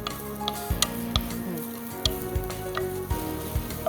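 Chopped onion sizzling in two teaspoons of olive oil in a pan, a steady crackling fry with periodic stirring clatters and ticks of a utensil against the pan, close and alone.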